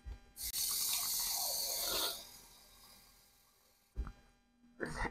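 Kitchen tap water gushes steadily into a bowl for a chicken and rice casserole, a close hissing stream that runs for about two seconds and then fades out, with a few short clunks afterward.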